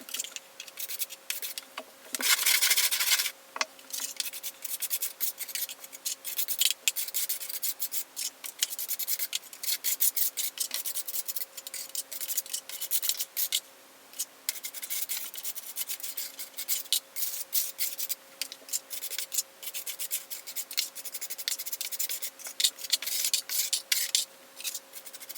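Scraping out a tiled mosaic wall with a screwdriver before grouting, giving dense, continuous rubbing and rasping strokes that come in bursts, close by and moderately loud, with no talk.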